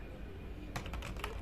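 Someone types code on a computer keyboard, a short quick burst of several close key clicks after a moment of quiet room hum, with no speech.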